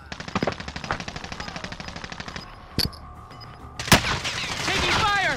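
Automatic gunfire in a battle royale video game: a fast, steady burst of shots, then a few separate loud cracks and a sweeping whoosh, close and loud.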